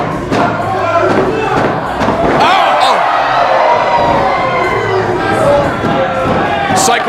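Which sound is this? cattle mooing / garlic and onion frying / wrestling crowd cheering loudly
wrestling crowd cheering loudly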